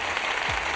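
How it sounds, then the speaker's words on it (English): Canned applause effect from a live-streaming studio's built-in sound library, a brief burst of dense clapping and crowd noise at steady level with no voices. "if I wanted an applause effect to play back while, for example, I'm celebrating something with my viewers, I would use the applause sound effect"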